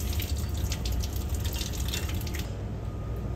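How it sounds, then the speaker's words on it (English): Tap water runs steadily into a kitchen sink as berries are rinsed for an ice cream topping, a close, even hiss with faint drips and no speech. "we're gonna wash our berries for topping"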